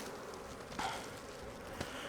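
Honey bees buzzing faintly around an open hive during an inspection in California, a soft steady drone with a couple of brief closer passes, no talk.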